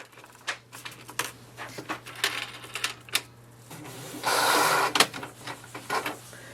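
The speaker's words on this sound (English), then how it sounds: "So it's printing the print head alignment page." A Canon Pixma TS5040 inkjet printer prints a print head alignment page, giving close irregular clicks and mechanical ticks, then a louder whirring burst as the paper feeds, with no voices.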